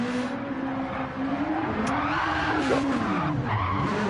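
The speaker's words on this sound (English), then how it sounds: "or in the case of Jeremy Dodger, doing some nice donuts." A race car spins donuts at the Spa circuit, tyres skidding and squealing continuously while the engine revs rise and fall, loud and sustained from a moderate distance.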